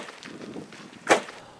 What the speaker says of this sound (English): That's the sound of the Land Cruiser's suspension smashing into a fairly small rock.